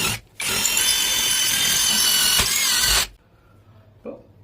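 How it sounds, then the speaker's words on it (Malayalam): An electric drilling machine bores a hole through a scrap metal grill, a loud close whine lasting under three seconds that cuts off abruptly, followed by a faint clunk. "നമ്മൾ ഡ്രില്ലിംഗ് മെഷീൻ യൂസ് ചെയ്തിട്ട് ഒരു ഹോൾസ് അടിക്കുകയാണ്"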